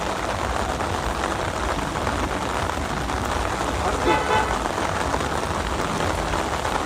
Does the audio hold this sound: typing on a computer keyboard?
no